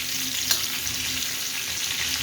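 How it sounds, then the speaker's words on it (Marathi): Eggplant pieces frying in a pan over low heat are flipped to the other side, giving a steady close sizzle with a soft knock early on; no one speaks. "आता अशी फिरून घ्यायची पलटी करून."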